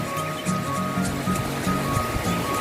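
Sea waves washing steadily onto the shore at Oslob, Cebu, a continuous broadband surf wash with soft rolling surges, fairly close and alone with no voices.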